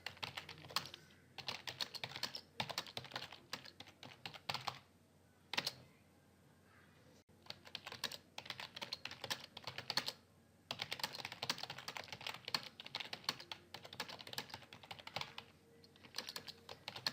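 Rapid clicking of a computer keyboard as code is typed, quiet and close, in bursts of steady keystrokes broken by a few short pauses.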